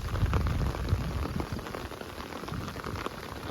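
Steady rain falls in a Lao town, a dense continuous patter of drops striking surfaces close by, slightly heavier at first and then even, with no voices.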